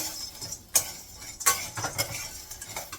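Moong dal sandge roasting in a little oil over low gas, with sharp spatula clicks and scrapes against the pan over a faint, steady sizzle, close and quiet.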